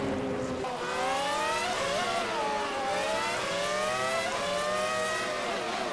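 Several race cars in a racing video game, including a Porsche 911 RSR at Okayama, roar down the track with sustained, rising and falling engine whines and gear shifts, loud and continuous.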